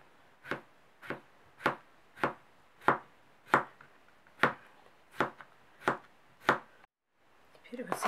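A knife thinly slices salad ingredients on a board, giving about eleven crisp, evenly spaced chops close by, then a brief pause and faint rustling.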